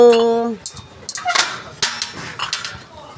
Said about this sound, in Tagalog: itong aso na to si Chocho.